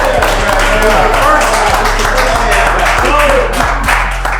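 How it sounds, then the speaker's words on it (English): An audience claps together at a live studio show, a dense, steady burst of hand clapping with tonal hum underneath that fades slightly toward the end. "Another hand clap over there."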